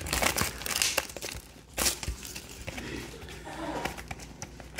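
A Topps 2023 Dynamic Duals trading card box is ripped open by hand, giving loud, close crinkling and tearing of packaging in uneven bursts with short pauses.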